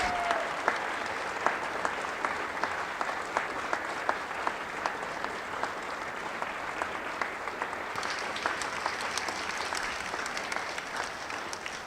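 An audience applauds steadily and continuously, a dense wash of clapping that holds at an even level throughout.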